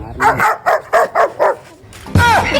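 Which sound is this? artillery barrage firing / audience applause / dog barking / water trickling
dog barking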